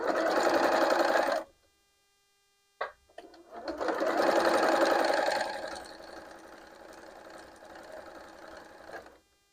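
A sewing machine stitches quilt fabric in loud, close whirring runs: a short burst, a pause, then a longer run that eases to a quieter, slower pace before stopping.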